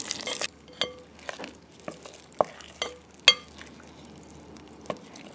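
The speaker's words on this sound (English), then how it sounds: "I'm going to continue to stir this in" A spoon stirs a thick peanut butter and jelly bar mixture in a bowl, giving sparse, irregular clinks and scrapes against the sides over a quiet background.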